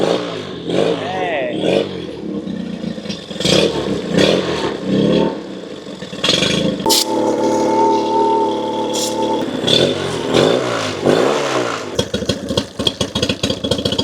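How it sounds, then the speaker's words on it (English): A rebuilt outboard boat motor cranks and fires up, then runs unevenly, its engine note surging and sputtering with clattering bursts while a person speaks briefly nearby. "the motor seems like it's actually running, but it seems like it's not running perfectly"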